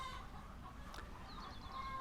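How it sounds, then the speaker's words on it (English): Chickens cluck in the background with soft, scattered bird calls and a brief higher squawk, fairly faint and steady with no speech over them. "Boy, these chickens are busy."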